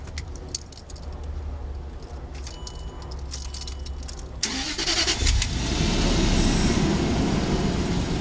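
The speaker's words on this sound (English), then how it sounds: "I'm going to turn this car on. Let's take a listen." A 2007 Range Rover Sport Supercharged is started from the cabin: faint key jingles and clicks, then the engine cranks and catches about halfway through, settling into a loud, steady idle that carries on to the end.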